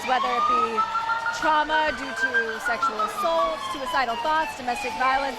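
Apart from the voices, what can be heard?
sirens of the Golden Saber Gasparilla crew at parade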